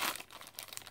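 Plastic packaging for kawaii squishy toys crinkles and tears as it is pulled open by hand, a short close burst of crackly rustling, loudest at the start and then fading into lighter crinkles.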